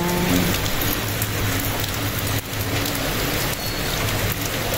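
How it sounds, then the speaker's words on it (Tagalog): Steady, heavy rain pours down across the whole clip, a dense broadband hiss with a low rumble of vehicle engines idling underneath. "Buti naman, humina ang ulan."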